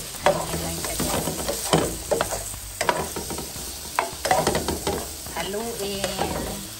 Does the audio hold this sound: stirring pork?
yes